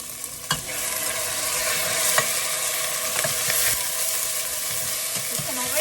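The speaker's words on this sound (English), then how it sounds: "Hear the sizzle." Steady frying sizzle with a constant hiss as boneless, skinless chicken thighs cook in a pot for tom yum soup, punctuated by a few clinks of a utensil stirring, close up.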